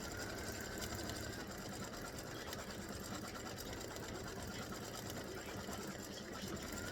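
An embroidery machine stitches the centre of a pumpkin face quilt block, a steady, dense mechanical whir running unbroken for the whole stretch with no talking.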